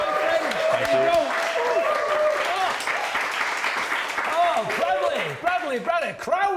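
A TV studio audience claps and cheers for Olympic taekwondo athlete Bradley Sinden. The applause is loud and sustained, with a host's voice talking over it.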